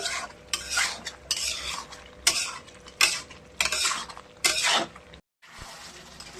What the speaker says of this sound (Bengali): ঢাকা দিয়ে দিয়ে এরকম করে করে কষাতে থাকবো এরকম করে